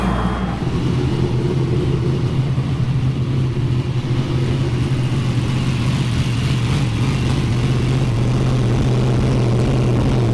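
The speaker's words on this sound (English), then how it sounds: "Engines are fired" Race car engines idle and rumble loudly at the Silver Dollar Fall Nationals, a dense, steady low drone from several machines held constant throughout with no talking.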